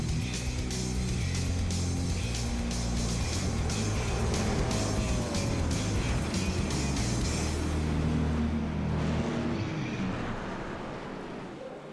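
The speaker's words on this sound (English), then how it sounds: "as the pace car is peeling off" Race cars roar around the Daytona track as the pace car peels off, a dense sustained engine drone holding steady at close range with rising and falling tones before easing slightly near the end.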